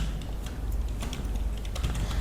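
Quick, fairly quiet keystrokes on a computer keyboard while text is typed into Microsoft Word, irregular clicks close to the microphone with no talk.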